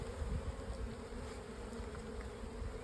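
Honeybees buzzing around a beehive, a steady, dense hum of many insects close by, fairly quiet and unbroken throughout.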